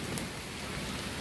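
Steady rain falls outdoors at dusk, a dense even hiss of drops on surfaces that stays constant and fairly loud throughout, with no voices.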